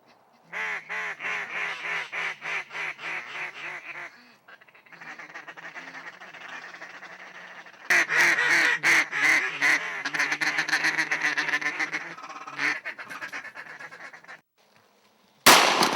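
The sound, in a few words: ducks quacking and geese honking during waterfowl hunt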